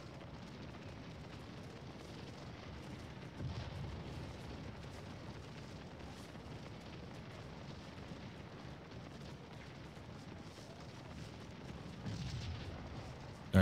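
Distant artillery and musket fire in the Civil War battle game Scourge of War: Gettysburg keeps up a low, steady rumble with faint scattered pops and booms, quiet and continuous throughout.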